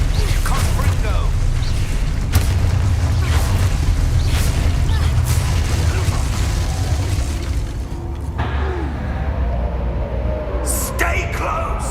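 A Confringo spell explodes in Hogwarts Legacy, one of several sharp booming bursts over steady rumbling battle noise, with a spoken voice heard and a quieter stretch near the end.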